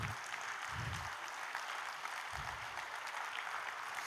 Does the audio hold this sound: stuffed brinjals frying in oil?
no